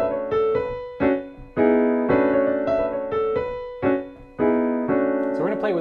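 A piano plays the jazz phrase known as The Lick over left-hand chord voicings, with a moderate series of struck notes and sustained chords ringing and decaying, and no talking.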